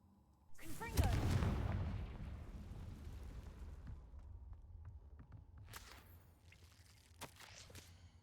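A single deep blast from a Confringo explosion spell goes off near the start with a loud, booming low rumble that slowly decays. Smaller crackles and bursts of debris follow later.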